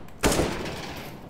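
Gunfire from Counter-Strike: Global Offensive: a sudden loud burst of shots that trails off into a fading decay, with no talking over it.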